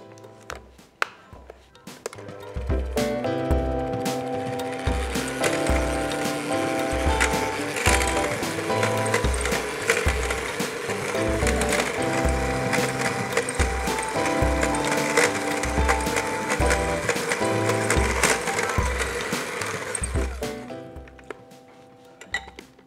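Sugar with orange zest is beaten by hand in a bowl for an orange cake, a steady run of quick rhythmic scraping and tapping strokes lasting about twenty seconds before easing off, close and fairly loud over soft background music, with no talking.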